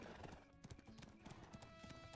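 Donkey hooves clip-clop in Black Desert Online, a quick steady rhythm of hoof beats over a faint background, heard alone without talk.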